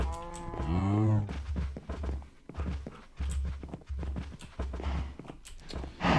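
Low, drawn-out cow moos in Minecraft repeat several times, with a steady low hum between them and no talking.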